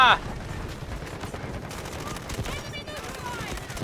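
Rapid automatic gunfire crackles in a Delta Force firefight, a loud burst at the start followed by continuous shots and clatter, with someone speaking Thai over it.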